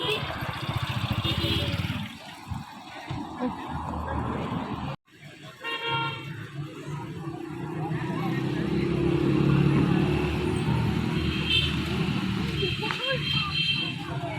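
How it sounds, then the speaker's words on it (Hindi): After a wedding, a car waits with its engine idling while passengers climb in, horns tooting now and then, a door sound cutting in briefly, and people talking loudly throughout. "यहाँ पे हमारी गाड़ी आ गई है, हम गाड़ी में बैठने लगे हैं"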